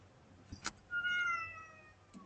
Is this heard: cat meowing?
yes